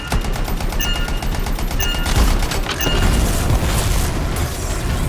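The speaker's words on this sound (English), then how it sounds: "Stand clear for detonation." An explosive detonation in the video game Anthem sets off loud, rapid bursts like heavy gunfire along with booming blasts and mechanical clatter. The onslaught runs continuously without letting up and stays dense and close throughout.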